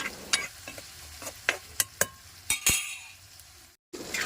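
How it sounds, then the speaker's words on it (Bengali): Bitter gourd frying in a pan, a soft continuous sizzle broken by sharp metallic scrapes and clinks as a utensil stirs it, close and fairly quiet. "তো করলাটা ভাজা হয়ে গেছে এবার আমি ঢেলে রেখে দেবো"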